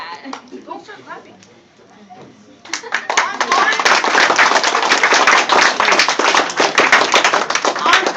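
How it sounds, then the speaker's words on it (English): An audience at an eight-year anniversary party for Ignition Junior High applauds its leaders. Brief talking gives way to loud, dense, sustained clapping from many hands that continues to the end. "Don't start clapping."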